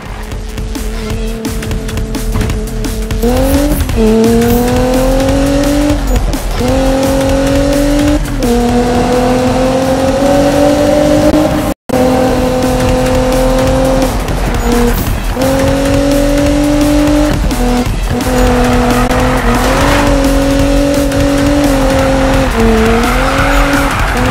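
A car engine in the Need for Speed 2015 racing game roars continuously during an uphill run. Gear changes make its pitch climb and drop again and again, with tire squeal and skids mixed in, loud and close from start to end.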